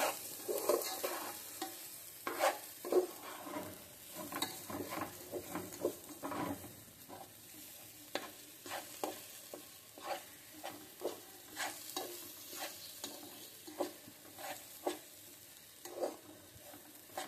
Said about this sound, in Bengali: এখানে আমি পোলাও চালটা ভেজে নিচ্ছি ভালো করে। দারচিনি, এলাচ, তেজপাতা, আদা, একটু কাঁচামরিচ দিয়ে ভালো করে ভেজে নিচ্ছি।